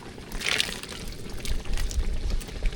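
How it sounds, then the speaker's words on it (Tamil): Tamarind water poured into a pot of sambar rice with half-cooked vegetables, a close, uneven liquid splash and trickle with a few louder glugs and no talk. "இது கூட கரைச்சி வச்சுருக்க புளி தண்ணியை சேர்த்துக்கலாம்"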